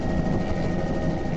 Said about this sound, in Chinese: 等不及人力爬电塔，急件需仰赖直升机出动